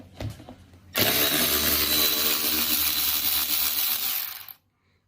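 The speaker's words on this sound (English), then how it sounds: "we're going to use a T20 Torx screwdriver here to loosen this" A T20 Torx screwdriver loosens the screws on a steering wheel panel with a steady, close, gritty whir that lasts about three and a half seconds before stopping, after a few faint clicks beforehand.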